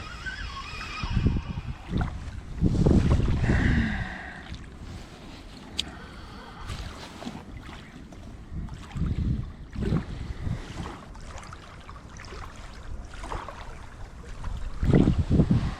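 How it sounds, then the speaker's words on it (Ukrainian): Strong wind buffets the microphone while waves slap against a fishing boat on open water during roach fishing in worsening weather, loud rumbling gusts rising and falling throughout. "Вітер реально такий дує, хвилі, що піпець."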